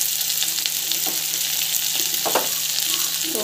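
Chana dal and urad dal sauté in a hot pan, a steady close sizzle broken by a few scraping stirs, with no talking.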